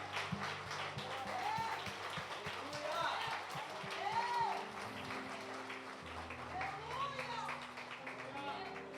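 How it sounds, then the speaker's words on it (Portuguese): Congregation applauding during a church service, steady clapping that runs the whole clip at moderate loudness, with a person speaking over it and music in the background. "Vocês podem aplaudir o Senhor"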